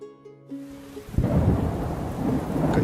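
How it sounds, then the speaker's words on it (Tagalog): Heavy rain with thunder: after a brief musical tone, a deep rumble builds into a loud, dense downpour that pours steadily and close, with no voices. "Kanina pa ang ulan na yan."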